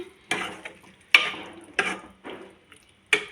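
Okra and yogurt curry being stirred in a pan after coriander leaves go in, a series of about five distinct scraping strokes of a spoon against the pan, close and clear, with faint sizzle between.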